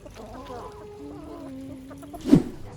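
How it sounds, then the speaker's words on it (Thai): Hungry chickens crowd around feed, clucking and calling in a close, busy flock, with one sharp loud squawk near the end. "มันเหมือนไก่หิวมากอะทุกตัวแบบแย่งกันกินใหญ่เลย"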